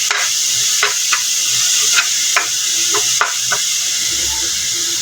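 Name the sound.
sauteing brown pork in a pan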